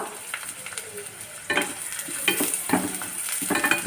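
Onions for semiya khichdi sizzle as they sauté in a pan, a steady close frying hiss broken by scraping stirs and clinks of a utensil against the pan at irregular intervals.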